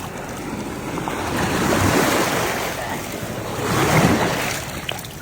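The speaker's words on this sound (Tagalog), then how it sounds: "wow, dagat!" Surf rolls in on a beach in two broad swells, a steady wash of breaking waves with wind buffeting the microphone throughout.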